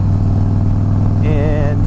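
Harley-Davidson Fat Boy S with a Vance & Hines slip-on exhaust idles with a deep, steady pulsing rumble close by, while someone talks briefly over it partway through.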